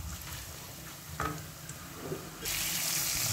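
Water splashes into a pan of frying turmeric, coriander and cumin spices for a Bengali greens dish, hissing softly and then rising to a steady, louder sizzle.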